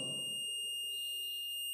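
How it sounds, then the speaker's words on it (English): A multimeter's continuity buzzer sounds while testing a motor: a steady, thin high-pitched tone held through the whole moment, with a low muffled thump at the start. "You see, there is a buzzer sound,"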